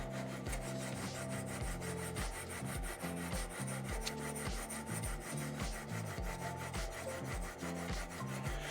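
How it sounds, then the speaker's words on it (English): Rhythmic back-and-forth scraping of a Tyrell Knifeworks Sand Shark sanding machine hand sanding steel, steady repeated strokes, close and continuous with no voices. "This Sand Shark really takes a lot of the work out of hand sanding."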